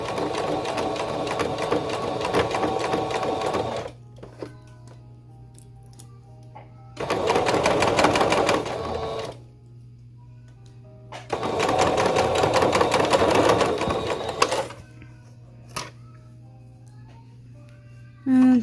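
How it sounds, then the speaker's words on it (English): A sewing machine stitching a romper seam, three loud bursts of rapid mechanical whirring and needle clatter separated by pauses, close up, with soft music underneath. "I'm going to remove that pin and just sew on down."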